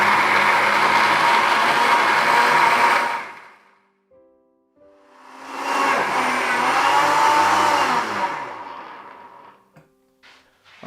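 A kitchen blender whirs loudly, blending the ingredients for vegan roast chicken in two bursts of roughly four seconds each, separated by a short pause, with a few soft clicks and handling noises at the end.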